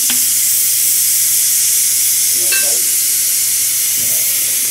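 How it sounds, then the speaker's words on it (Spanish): A pot of chile and tomato mole sauce boils on the stove, giving off a steady, loud hiss and sizzle with faint bubbling and a couple of soft clinks of a spoon against the pot. "se va a dejar hervir esta mezcla que fue a base de chile y del tomate"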